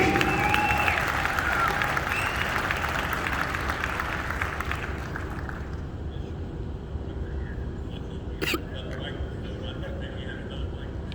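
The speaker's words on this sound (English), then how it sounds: "let's give them a great big round of applause, please." A big round of applause from an audience at the Ohio State Fair, loud and dense at first, then thinning and fading away, with a brief sharp knock near the end.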